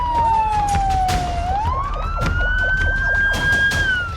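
Wailing emergency siren in the streets of Damascus after airstrikes, its pitch sliding down then rising and holding, loud and continuous over a dense city roar, with no talk.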